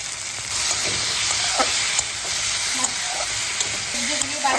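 Ivy gourd (kundru) sautéed with spices in a little ghee sizzles steadily and close, a dense, even frying hiss with occasional soft stirring scrapes throughout.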